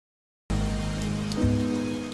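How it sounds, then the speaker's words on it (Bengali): Rain falls in a steady, dense hiss that starts abruptly after a short silence, fairly loud and continuous with a low droning undertone, and no voices. "কখনো ঝিরিঝিরি ছন্দে, আবার কখনো ঝুম তালে নামছে বৃষ্টি।"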